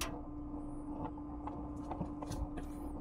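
A used-oil burner stove's blower runs at high speed, making a steady, low-level whirring roar with a constant hum and a few faint knocks throughout.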